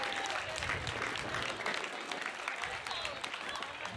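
A banquet audience claps steadily in a sustained round of applause for honored student athletes at a school awards night, the dense clatter continuing evenly throughout with no voices above it.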